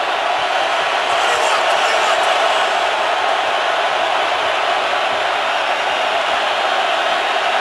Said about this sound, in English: Crowd roaring on a 3rd and 11